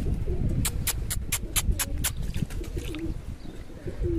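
Pigeons coo repeatedly in a trapping setup in hot weather, their soft throaty calls mixed with sharper bird chirps, close and fairly loud over steady low background noise.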